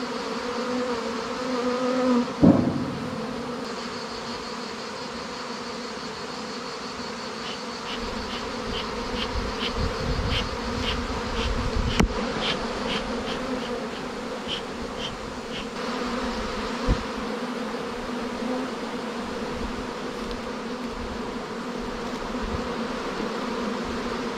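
A swarm of honey bees buzzing around a hive after being taken from a tree branch, a dense continuous drone close by with occasional faint knocks and clicks.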